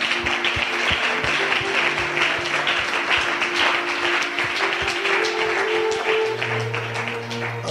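A church congregation applauding the Lord during a French-language prayer service, dense continuous clapping filling the room, with a few louder claps standing out and low sustained musical tones underneath.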